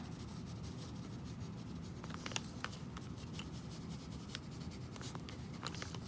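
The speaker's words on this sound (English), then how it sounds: "I'm going to add a little bit of regular pencil" Regular pencil shades on paper in close, soft, continuous scratching strokes, with small sharper ticks now and then and no talk.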